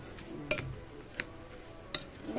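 Utensil clinks against a bowl while kinilaw fish is mixed with kalamansi, giving three sharp, light taps spaced about a second apart over a quiet kitchen background.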